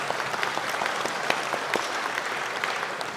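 A crowd of guests at a scholarship dinner claps steadily, producing a dense, even patter of many hands that stays at a moderate level throughout.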